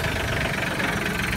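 A compact tractor engine idling, a steady close rumble with an even low throb and no pauses.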